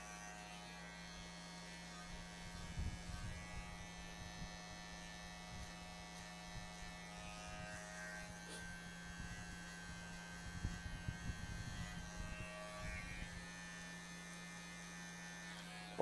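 An electric hair clipper buzzes steadily and close up throughout while cutting a drop fade in a barbershop, its hum shifting in strength as it moves across the hair.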